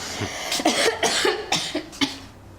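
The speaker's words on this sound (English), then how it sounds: "Nasty cough." Several harsh coughs in quick succession, close and fairly loud, with short pauses between bursts.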